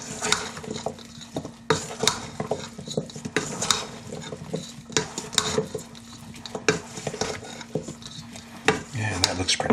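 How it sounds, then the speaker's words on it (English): Beef short ribs coated in flour and soy sauce get stirred in a bowl, with repeated scraping and clinking of a utensil against the dish in irregular strokes, close and moderately loud. "Stir it around again. Get everything coated up."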